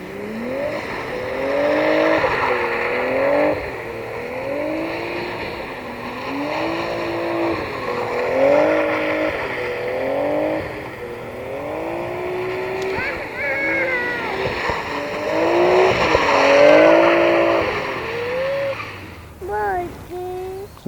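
Kawasaki Z125 Pro motorcycle engine while being ridden and drifted, its pitch rising and falling in repeated waves of revving under steady wind noise, with people talking over it.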